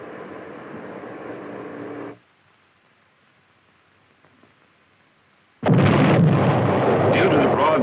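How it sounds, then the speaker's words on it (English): A 1961 T-235 artillery gun on a lighter firing platform with spade and hydraulic shock absorbers gives a loud sustained blast and roar, then near silence, then another heavy, loud firing burst. "allows the gun to be fired from a platform less massive than previously necessary"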